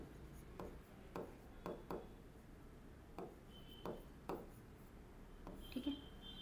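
Pen or pencil strokes scratch across paper during an English study lesson, coming in short separate bursts with pauses between them, quiet and close, with no talking.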